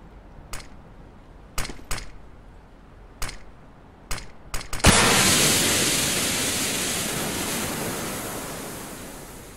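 A smoke grenade in CS:GO: several sharp, separate clicks come first, then a sudden loud rushing hiss bursts out and slowly fades away over the next few seconds.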